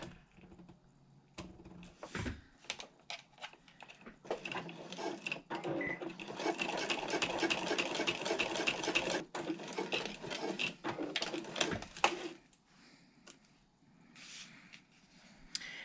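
Sewing machine top stitching two lines down a handbag strap connector, short bursts of whirring stitching building into a long steady run, then tapering off with a few clicks and handling noises; no talking.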